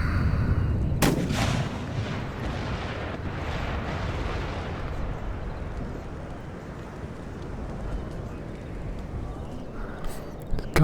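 Artillery guns firing in the strategy game Empire Total War, a sustained low rumbling barrage of booming shots with a sharp report near the start, continuing steadily throughout with no voices.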